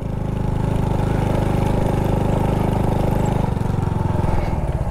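Steady, close motorcycle engine drone on a ride through the hills of Santa Magdalena, Sorsogon, humming evenly throughout with wind rush and no clear talking.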